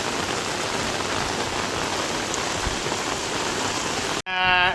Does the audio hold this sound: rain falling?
yes